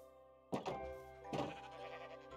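Two sheep bleats in a Minecraft-style video game, each a short wavering cry close by, the second following about a second after the first over a quiet background.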